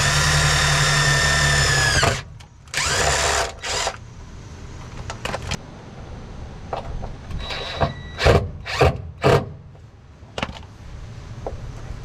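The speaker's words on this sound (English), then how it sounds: "Drill the hole first." A power drill bores a hole in a car while a positive battery cable is being routed to the trunk. It whines in a long opening burst, then in shorter bursts with pauses between them, fairly close, and clanks of handling fill the gaps.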